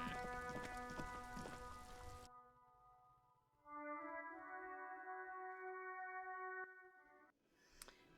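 Steady rain in the video game Disco Elysium: Final Cut, a soft continuous hiss under quiet ambient music tones, with faint thunder-like rumble at times.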